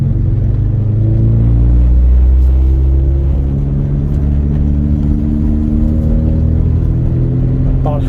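Honda Integra engine accelerating through the gears, a loud, close, steady drone that rises in pitch, shifts and climbs again.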